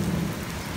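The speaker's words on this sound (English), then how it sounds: "rain coming down." Heavy thunderstorm rain pours down in a dense, steady roar with a low rumbling undertone, loud and continuous throughout.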